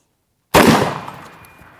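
A Mag 10 shotgun fires a slug into watermelons outdoors. After silence comes one sudden, very loud blast, followed by a splattering rumble that fades over about a second.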